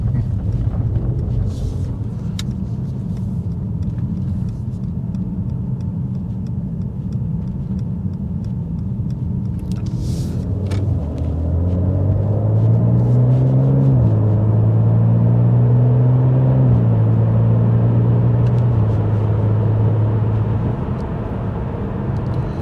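Car exhaust with its valve flaps held fully open, driven at low revs through a tunnel, a loud continuous droning rumble that swells and rises in pitch as it climbs slowly through the gears, with no talking.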